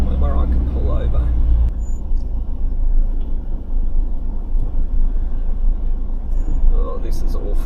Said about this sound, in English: cars coming. There's a whole bunch more coming.